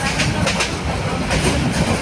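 Steady rumble and rhythmic rattle of a train running on rails, heard from inside a passenger carriage on a journey near Bhawal Garh, continuous and fairly loud throughout.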